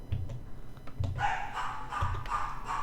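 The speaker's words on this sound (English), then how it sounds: "Stop barking." A dog barks in short bursts, three deep close woofs spaced about a second apart, while a person talks over them.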